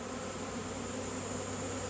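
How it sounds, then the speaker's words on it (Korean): Honeybees swarm onto the scent of a caged queen at a hive, a dense, steady buzzing drone that fills the air continuously and close by, with no voices. "이렇게 여왕벌 냄새를 맡고 꿀벌들이 지금 다 달라붙고 있죠."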